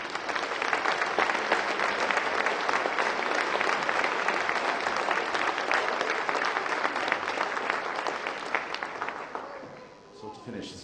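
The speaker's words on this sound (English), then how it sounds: "A big round of applause" Sustained, loud audience applause for a choir's accompanist at a choral concert, a dense wash of many hands clapping steadily for about ten seconds before thinning out at the end.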